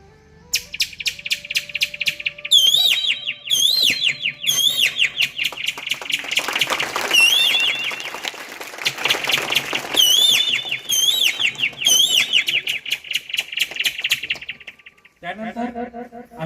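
A person blows on a leaf to imitate a koel's call, producing repeated loud, close, rising whistled notes in rhythmic bursts that continue for a long stretch before ending in a short, fluttering trill.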